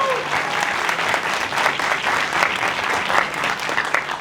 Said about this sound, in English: One more round of applause for these amazing young men.